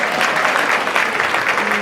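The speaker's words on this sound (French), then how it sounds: "Acclamez Jésus-Christ" Congregation applauding at a church service, a steady dense wash of clapping at even loudness throughout, with some voices mixed into the crowd.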